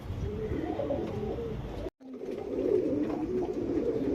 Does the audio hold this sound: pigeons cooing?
yes